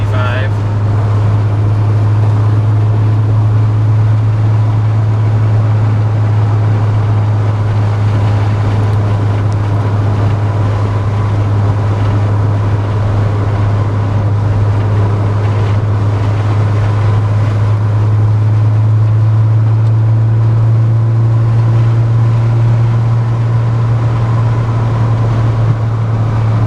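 A 1981 VW Rabbit pickup with a 5-speed manual, ABA engine and .268 cam cruises at 65 mph around 3,000 RPM, giving a steady, loud, unbroken engine and road drone with a strong low hum throughout.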